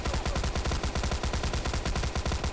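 Video game gunfire rattles in rapid, unbroken automatic bursts, loud and steady from start to finish.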